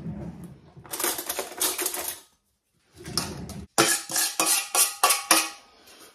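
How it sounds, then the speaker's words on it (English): Chopped salad potatoes and half an onion tossed together in a small bowl, giving clattering, scraping bursts against the bowl in two runs separated by a short pause, close and fairly loud. "I'm going to mix those together in this bowl."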